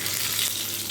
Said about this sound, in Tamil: பொரிஞ்சோடனே கருவேப்பிலை போட்டுக்கலாம்.